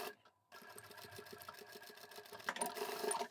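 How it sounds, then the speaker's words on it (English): Sewing machine stitching across the box corner of a fabric bag, a steady rapid mechanical chatter of needle strokes, close but quiet, briefly stopping then running on evenly with a slight rise toward the end. "that's all I'm going to sew for the box corner"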